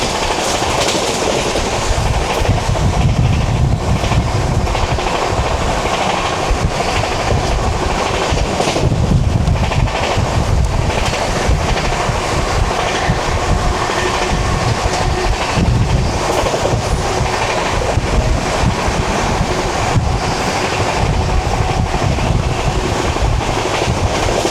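A sleeper class train on the Delhi to Amritsar line rolls along at speed, a loud continuous rumble and rattle from inside the carriage with a rhythmic clickety-clack of wheels over rail joints, and no voices.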